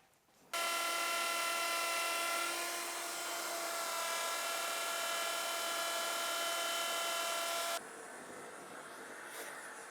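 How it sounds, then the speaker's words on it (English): A router fitted with a dovetail bit cuts a sliding dovetail into wood: the motor switches on abruptly into a loud, steady high whine, then falls away after about seven seconds. "now I can simply lower my router until the bit hits the bottom of the dado, like that, and then cut the dovetail part."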